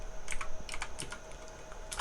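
Several quick, light keystrokes on a computer keyboard, clicking in short irregular clusters close up, with no talking.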